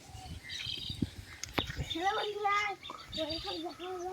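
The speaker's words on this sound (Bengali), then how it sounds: "পাখিগুলো কি ডাকছে দেখো" Birds chirp and call outdoors in a village, a few short tweets standing out over faint background talk and ambient noise under an overcast sky.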